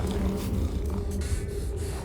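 A cat purring steadily in a scene from the animated series Arcane, a continuous low rumbling purr held at moderate loudness throughout, with no talk over it.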